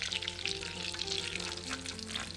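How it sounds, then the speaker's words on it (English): Butter melting in a pan for a pepper sauce gives off a steady, close, even sizzle with a fine crackle throughout, and no voices. "Just melting some butter."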